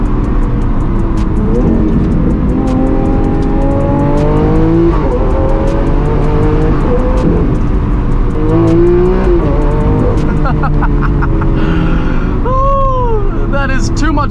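Lamborghini Aventador SV V12 supercar revving and accelerating through the gears, with rising engine tones, shift breaks and loud close exhaust, and someone talking over it.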